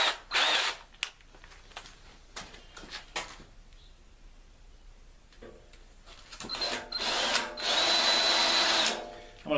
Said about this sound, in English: Wish me luck drilling holes in a brand new tractor.